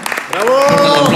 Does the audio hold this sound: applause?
yes